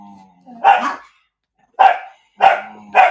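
A six-month-old whippet puppy barks four times in sharp, loud bursts with gaps between, close to the microphone and with no talking over it.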